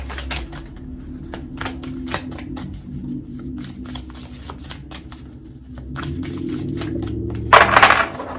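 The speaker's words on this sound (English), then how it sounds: "I'm just gonna pull cards like this" Crisp papery card snaps and slides, irregular and close, ending in a short burst of riffling as cards are pulled from a deck.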